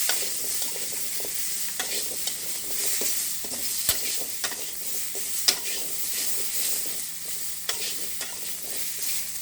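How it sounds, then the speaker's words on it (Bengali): Boiled jackfruit seeds lightly frying in a pan, a steady bright sizzle running throughout with periodic scrapes and taps of a spatula stirring them, close and continuous with no voices. "এখন এটা একটু হালকা ভেজে নেব"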